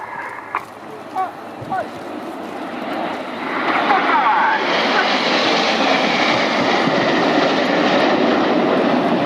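Red Arrows display jets at RIAT 2017 roar past, the engine noise swelling after a few seconds into a loud, sustained rushing roar, with a commentator speaking over the flypast.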